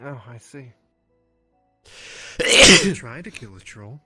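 One sharp, loud sneeze breaks out close by in the middle of a conversation, starting with a short indrawn breath and bursting into a noisy explosive blast, with voices talking before and after it.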